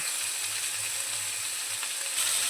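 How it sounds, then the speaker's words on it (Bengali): Pieces of pointed gourd (potol), salted, fry together in hot oil, giving a steady close sizzle with soft crackling throughout and no voices. "আমি এখানে সমস্ত পটলগুলো একসাথেই ভাজবো"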